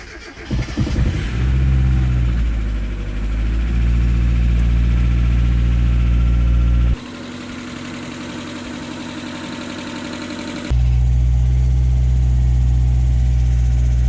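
A Mazda Miata engine with a head gasket repair cranks over, catches, and settles into a loud, steady idle, dropping quieter for a few seconds midway before the idle returns at full strength.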